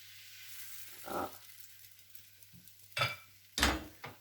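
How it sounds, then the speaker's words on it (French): Gluten-free crêpe batter cooking in a hot pan, with a faint steady sizzle under a few brief utensil clatters and scrapes near the close. "Et hop, on les fait cuire."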